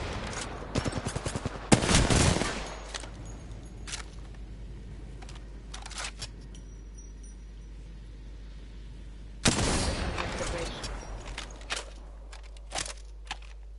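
Bursts of gunfire in the Apex Legends battle royale shooter, one heavy volley near the start and another about two-thirds through, with scattered single shots and clicks between them over a low steady hum.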